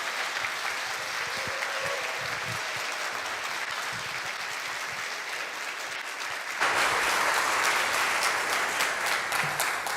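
Church congregation at a Sunday service in Detroit gives sustained, dense applause for about ten seconds, growing louder and fuller partway through, with no voices standing out.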